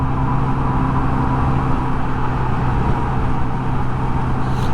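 A Honda Navi motorcycle cruises at about 45 mph on a highway feeder road at steady part throttle, its loud engine drone blended with constant wind and road roar.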